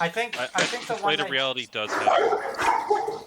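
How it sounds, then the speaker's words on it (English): Dogs bark and yip repeatedly close by, mixed in with and partly over people talking indoors. "excuse the dogs"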